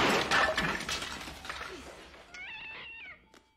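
A cat meows in the horror film Scream, a short wavering cry rising near the end after a busy stretch of tense film sound, loud and close.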